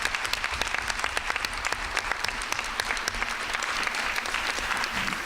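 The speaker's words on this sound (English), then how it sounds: "let's have one more round of applause for our high achievers." A round of audience applause at a school board meeting honoring high-achieving students, dense and even clapping from many hands continuing steadily throughout.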